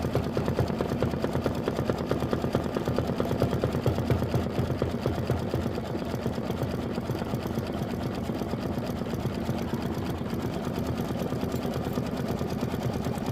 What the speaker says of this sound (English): We are 40 minutes into a 52-minute stitch out.